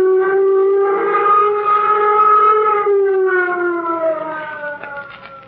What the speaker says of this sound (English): Sound flight warning signal.